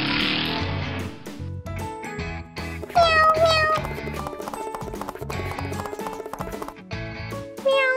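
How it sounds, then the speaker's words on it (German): A small cat meows a few times amid a busy, rhythmic cartoon-style music bed with clip-clop hoofbeat effects, the meows bright and close but partly masked by the music. "Miau, miau. Oh, du kleine Katze."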